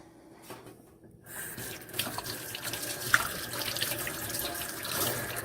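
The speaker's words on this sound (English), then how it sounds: "Let's go wash our hands." Tap water runs into a sink for handwashing. After a quiet moment it begins, and the steady splashing and gushing stream continues close by to the end.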